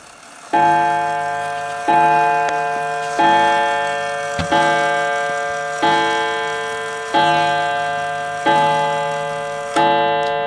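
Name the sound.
antique 1920s Napoleon hat mantle clock chiming eight o'clock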